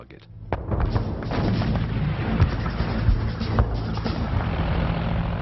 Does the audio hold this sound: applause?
no